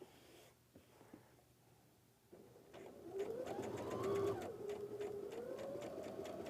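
A sewing machine stitches unpinned quilt block pieces for sawtooth and triangle square blocks, starting quietly and then running in a steady buzzing whir with no voices.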